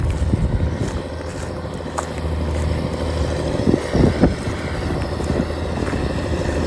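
A tractor engine runs at about 1400 rpm while strip-till sowing sunflower, loosening soil and placing fertilizer beside the row at 10-11 km/h. Its steady, loud, low drone continues throughout with no talk.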